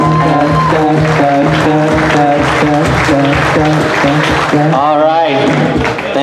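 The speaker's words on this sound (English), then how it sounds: "Come on, another round of applause." Audience applause rolls steadily through an awards ceremony hall, dense clapping under music and a speaking voice.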